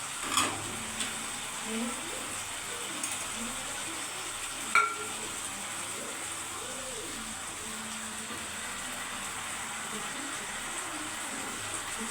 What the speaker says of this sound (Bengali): দেখো হালকা আঁচে কিন্তু মশলাটা ভাজলে ভালো লাগবে, কালারটা সুন্দর হবে।